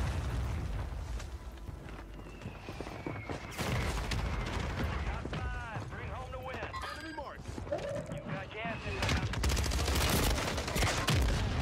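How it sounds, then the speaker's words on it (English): Mortar blasts and gunfire in the video game Call of Duty, Verdansk superstore firefight, with dense bursts and booms throughout under steady talking from several players. "I'm gonna die by my own mortar"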